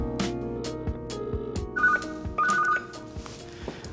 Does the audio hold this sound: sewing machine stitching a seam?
no